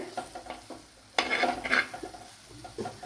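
Anchovies (netholi) sautéing in a pan, with soft sizzling and repeated scraping stirs of a spatula against the metal, including a louder scrape burst midway, close up and with no talking.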